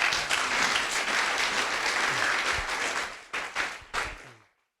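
A church congregation claps in loud, dense applause for several seconds, then trails off into a few scattered final claps before silence.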